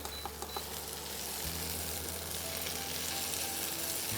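Chilli and tomato sizzle in hot oil for a spicy Bengali raw-jackfruit curry, a soft steady frying hiss that swells slightly partway through, with a couple of light taps early on.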